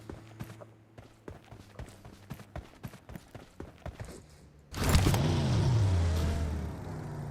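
A vehicle engine in the mobile battle royale game BGMI roars in suddenly and loudly after a stretch of light rhythmic footsteps, then holds a strong, steady drone with a pitch that swoops down.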